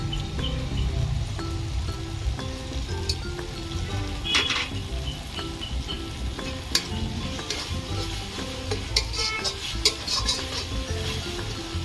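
Ground paste of coriander, cumin and dried chilli added to a hot pan for a chicken curry, sizzling steadily while a spoon stirs and scrapes, with sharp metal clinks near at hand.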